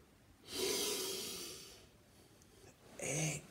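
Two forceful breaths pushed out through the nose or mouth, a long airy exhale followed by a shorter sharp one, close and breathy.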